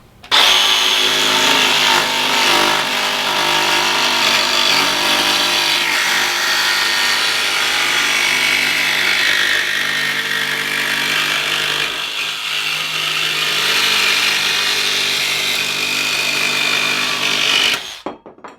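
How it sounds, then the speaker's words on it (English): A DeWALT DCS334B 20V brushless cordless jigsaw on its highest speed setting cuts a 1/8 inch metal plate four inches wide, a loud, steady buzzing saw whine held almost eighteen seconds before it stops abruptly. "Cut through a 1/8 inch thick metal plate within a few seconds, 4 inches wide"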